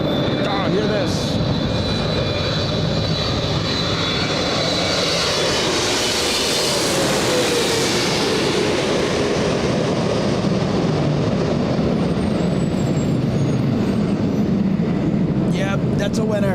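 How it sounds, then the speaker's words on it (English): A Korean Air Boeing 747-8 landing at Los Angeles International Airport, its jet engines a loud continuous roar that swells and recedes, with a voice talking over it. "a 747-8. Korean Airlines."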